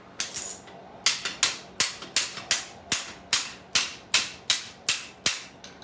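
A small hammer strikes a geode about fourteen times in quick, slightly uneven succession, each hit a sharp, close, bright crack that decays fast.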